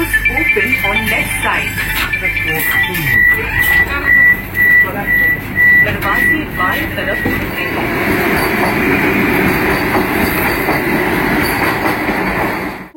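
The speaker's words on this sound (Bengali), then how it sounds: "ট্রেন কিন্তু একদম নির্দিষ্ট টাইমেই বালাসোর স্টেশনে ঢুকে গেছে" The Howrah–Puri Vande Bharat Express rolls into Balasore station with rumbling wheels, squealing brakes and a long whistle-like tone, the rumble growing heavier and steadier as it arrives.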